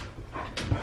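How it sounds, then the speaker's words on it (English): Excited dogs make a brief, close burst of whimpering and short yips, lasting under a second. "Yay for dogs freaking out."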